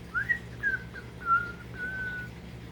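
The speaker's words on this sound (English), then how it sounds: "Then he went whistling to do his chores." A person whistles a short, wavering tune of a few sliding notes, clear and close against a quiet background.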